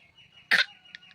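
A young child coughs on purpose indoors, one short forced cough, close and clear against a quiet background with a faint hum.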